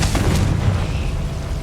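In Hogwarts Legacy, a Confringo spell detonates with a deep rumbling boom that fills the scene, loud and low, fading slowly under ambient game noise.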